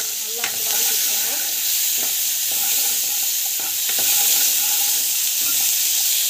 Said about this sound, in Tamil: வெங்காயம் நல்லா வந்து வதக்கி வச்சுக்கோங்க.